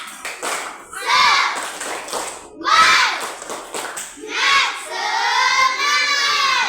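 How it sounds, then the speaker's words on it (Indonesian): A children's class doing the tepuk semangat clapping chant, bursts of shouted young voices with claps and thumps in rhythmic groups, loud and close, rising into a longer final cheer. "mari kita semua tepuk semangat"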